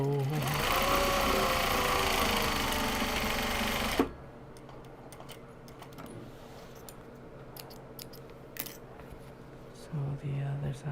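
A sewing machine stitches small box bags shut, running loud and steady for about four seconds, then stops, leaving quiet handling clicks and a brief restart near the end.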